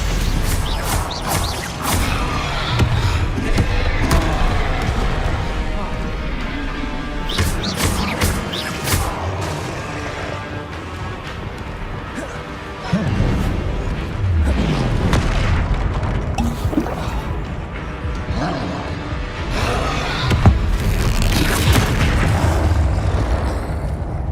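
Stupefy spell impacts in a Hogwarts Legacy combat sequence, loud booming crashes and bursts that come in clusters over a dense, noisy battle mix with repeated sharp hits throughout.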